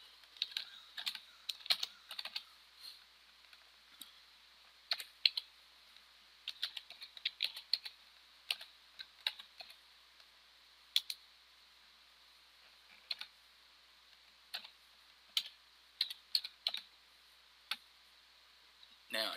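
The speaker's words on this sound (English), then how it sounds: "I'm just going to type something in there." Clicky computer keyboard typing, close and clear, in irregular bursts of keystrokes separated by brief pauses across a quiet room, with no voice over it.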